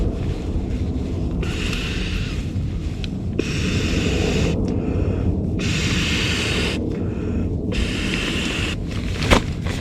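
Breathy puffs of air are blown in several long bursts into a sleeping pad valve against steady background rumble, close to the microphone.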